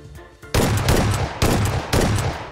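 Video game gunfire erupts in three loud, close bursts of rapid automatic shots after a brief quiet moment. No voices.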